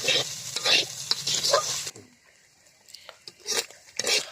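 Vegetables stir-fry in oil for noodles, with a loud crackling sizzle and scraping stirs for about two seconds, then a quieter pause broken by a few more bursts of sizzling.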